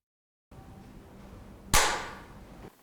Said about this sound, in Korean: 조계사 대웅전에 참회의 죽비 소리가 날카롭게 울려 퍼집니다